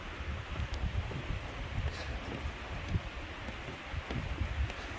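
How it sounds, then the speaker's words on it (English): Cold wind gusts outdoors near a waterfall, a steady broadband rush buffeting the microphone with rustling, no voices. "That wind's cold."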